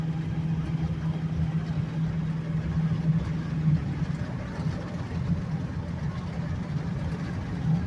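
A 2010 Ford F-350 crew cab 4x4 with the 6.4 Powerstroke diesel rumbles with a steady, deep engine drone throughout, held at a constant low roar with no clear peaks.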